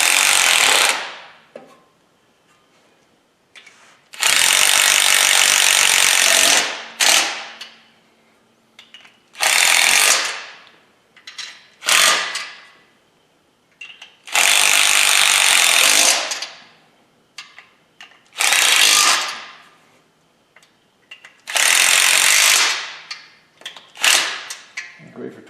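An impact wrench tightens bolts during engine work while installing an AC compressor, power steering and alternator, firing in several loud, close bursts of a few seconds each, separated by quiet gaps.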